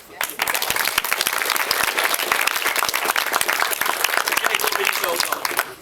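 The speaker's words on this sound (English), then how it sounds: "big round of applause" Wedding guests give a big round of applause during a father-of-the-bride speech, loud and close, with dense clapping and a few voices mixed in throughout.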